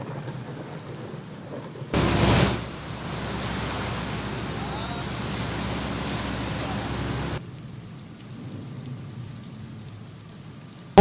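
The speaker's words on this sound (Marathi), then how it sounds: "मुंबईत कालपासून पडत असलेला जोरदार पाऊस आज देखील तुफान बॅटिंग या ठिकाणी पाहायला मिळते" Heavy monsoon rain lashes a flooded Mumbai road between Hindmata and Parel, a loud, dense downpour that roars for several seconds and then drops back to a softer steady patter.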